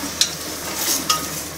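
Curry being stirred in a pot under a steady sizzle, with two light clinks of a utensil against the side.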